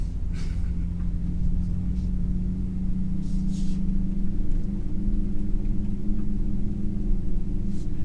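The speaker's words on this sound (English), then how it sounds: "Boy, it does sound like an engine's running." A Hyundai Ioniq 5 N's simulated engine sound hums as a steady low drone while driving, joined by faint intermittent rustling and clicks inside the cabin.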